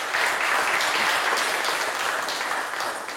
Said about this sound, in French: Merci d'applaudir mes candidats.